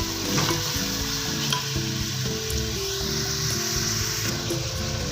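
Fish sizzling steadily in hot ghee in a karahi for fish karahi, a dense continuous frying crackle with occasional stirring clinks, close and fairly loud, no voices.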